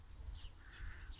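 A crow caws outdoors, a few faint, hoarse calls at a distance over a low background rumble.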